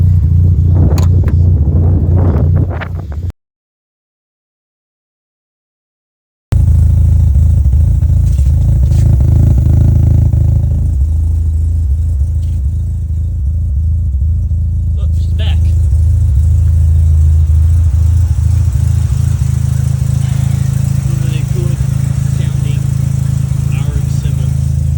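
A Mazda RX-7 engine roars loudly from up close, droning deep and continuous while the car drives hard, with clatter and some talk over it after a short silence.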